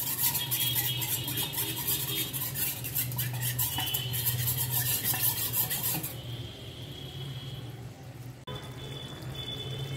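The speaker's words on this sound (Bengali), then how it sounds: "এবারে ঠান্ডা জল দিয়ে গুলে নেব।" Flour being stirred into cold water for a batter to pour over a bottle-gourd and fish curry, giving a steady close scraping, rubbing rasp of utensil against bowl, continuous with a brief pause near the end.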